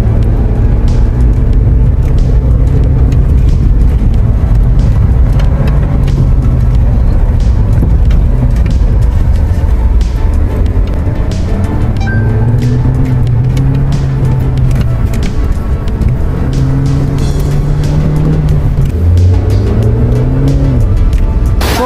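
A Suzuki Jimny driving off-road, its engine loud and close, revving up and down in repeated surges as it climbs and pushes over rough ground.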